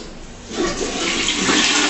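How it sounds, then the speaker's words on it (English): A toilet flushes nearby with a loud, rushing swirl of water that swells after the first half second and keeps roaring steadily. "Flush the toilet. Harder."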